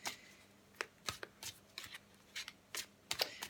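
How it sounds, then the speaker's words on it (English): Tarot cards are shuffled by hand in a quiet room, giving a series of crisp riffling and slapping bursts at irregular intervals, close and fairly soft. "I'm just going to keep shuffling."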